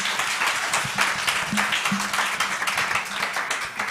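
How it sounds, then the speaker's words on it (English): An audience at a citizen assembly on debt and anti-corruption claps for the panelists, a loud, dense round of applause with sharp individual claps throughout. "another big clap for my panelists"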